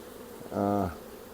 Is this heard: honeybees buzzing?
yes